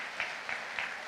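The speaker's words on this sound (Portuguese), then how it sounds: "Vamos aplaudir o Senhor pela vida dos nossos filhos." Church convention congregation applauding at a state assembly, a steady quiet wash of clapping with three brief louder swells across about a second, fairly distant and with no voices over it.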